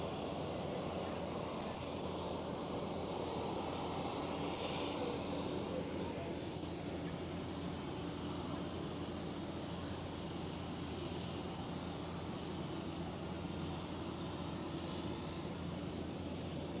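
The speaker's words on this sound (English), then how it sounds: "Right there is the Croatia A319." A Croatia Airlines Airbus A319 jet produces a steady, sustained engine roar at Amsterdam Schiphol, continuous and fairly distant, with voices talking faintly over it.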